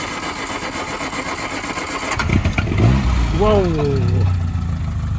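An MG Midget car engine cranks, catches midway and settles into a rough, rumbling idle close by, with people talking and exclaiming over it.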